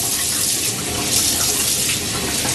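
Hot water running steadily from a tap to wet the face before a shave, a continuous broadband rush at close range with no talk.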